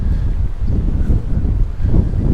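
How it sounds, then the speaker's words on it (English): Strong wind buffets the microphone on a seaside promenade lined with palm trees in Palmanova, Mallorca, a steady low rumbling roar that stays loud and continuous throughout with no talk. "It's very windy, by the way."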